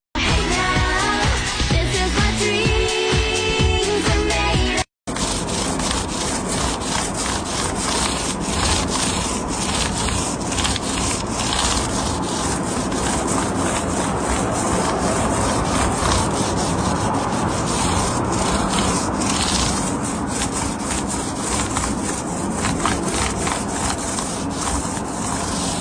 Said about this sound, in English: resand the areas that are kind of patchy, so that when I put the new stain on, it's not gonna look crazy